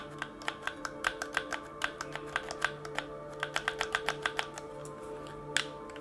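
Triggers on a Ralthy Switch Pro controller, a third-party gamepad, being pressed repeatedly: a string of about twenty sharp, close clicks in an uneven tapping rhythm, heard alone with no talk.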